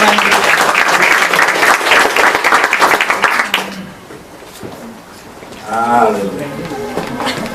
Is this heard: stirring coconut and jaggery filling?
no